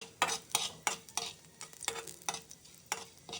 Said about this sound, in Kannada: ಕಡಾಯಿಗೆ ಆಯಿಲ್ ಹಾಕ್ಕೋತಾ ಇದ್ದೀನಿ ಹಾಗೆ ಕಡಲೆಬೇಳೆ ಉದ್ದಿನಬೇಳೆನ ಹಾಕ್ಕೋತಾ ಇದ್ದೀನಿ